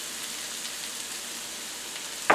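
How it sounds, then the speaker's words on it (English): Ham sautés in olive oil in a pan for a broccoli and ham quiche, giving a soft steady sizzle that ends in a brief louder clatter as the ham is stirred. "So at this point we'll go and add the ham."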